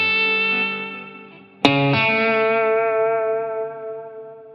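Electric guitar with effects playing a country hybrid-picking lick in sixths: a sustained note fades, then a sharp plucked attack rings out in bright, distorted harmonized intervals that sustain and slowly decay, no voices.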